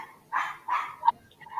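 A dog barks twice in a steady rhythm, close and clear, followed by a brief yip and softer trailing sounds in an otherwise quiet room.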